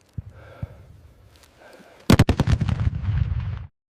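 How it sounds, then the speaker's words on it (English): Gunfire from a ridge in a mountain deployment, a quiet stretch and then a loud, close burst of rapid shots that settles into sustained firing before cutting off abruptly. "Taking fire from the ridge!"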